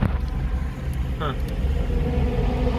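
Throaty low engine rumble of a C4 Chevy Corvette Convertible cruising on a road trip, a steady droning growl inside the car with people talking over it.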